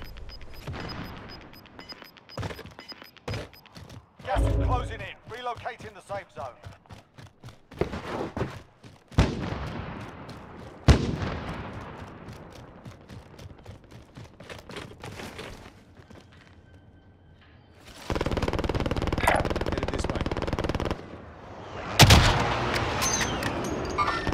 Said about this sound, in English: I'm gonna fire a rocket at it.